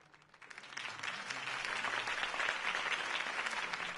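Crowd applause for a political campaign speech in the video game Batman: The Telltale Series swells up quickly after a quiet start and continues as a steady, moderately loud wash of clapping.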